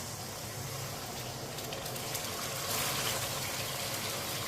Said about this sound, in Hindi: साथ में थोड़ा सा पानी डाल लेंगे